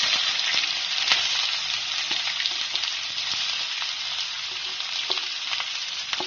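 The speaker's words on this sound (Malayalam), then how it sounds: "വേപ്പില ഇട്ടതിന് ശേഷം നമുക്ക് സവാള ഇട്ട് കൊടുക്കാം." Sliced onions fry with curry leaves in a pan, a dense, loud, steady crackle with scattered sharp pops and light stirring throughout.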